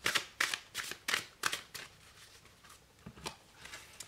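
A deck of personal development cards handled close by to draw a card, making a quick series of crisp papery flicks and slides that fade toward the end, with no talking.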